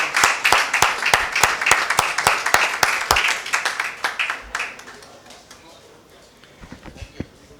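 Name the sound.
audience applause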